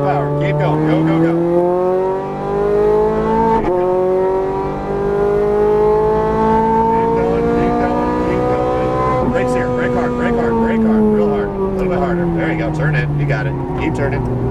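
Ferrari 430 Scuderia engine pulling hard at full power on a track, a loud rising and falling roar that climbs through the revs over a long stretch, with an instructor's voice heard over it.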